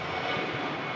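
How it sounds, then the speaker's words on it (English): A Norse Boeing 787-9 Dreamliner's jet engines give a brief, distant, steady roar at a large airport, faint and broadband with no voices. "787-9 Dreamliner of Norse."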